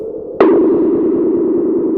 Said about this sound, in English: Getting a pretty cool horror movie type sound.